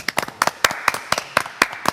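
Several people clap together in a quick, steady, close rhythm, crisp individual claps forming brief applause with no talking over it.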